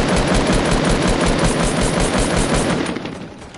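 Video game gunfire, a dense, continuous roar of automatic weapon fire heard up close and loud, running without pause before fading slightly in the final half second.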